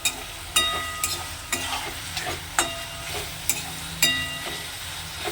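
Onion frying over a high gas flame in a pan for garlic green chilli chicken, with a steady sizzle broken by regular scraping stirs about every half second.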